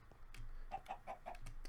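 Chicken from a chicken spawner in the video game Minecraft, a quick run of four soft clucks, faint and close, with no talk.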